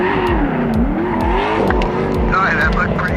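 A Nissan S13 Formula Drift car drifts during a competition run, its engine revving in repeated rising and falling bursts with tire squeal mixed in, under continuous commentary.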